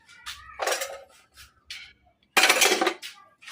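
Plates and dishes clatter in a kitchen sink piled full of plates, with a few light clinks and scrapes followed by a louder, sustained burst of ceramic clattering close by.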